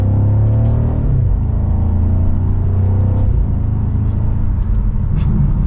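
A 2023 BMW M550i accelerating in sport mode, a deep steady engine drone rising and falling through gear changes, loud and close from inside the cabin, with no one speaking.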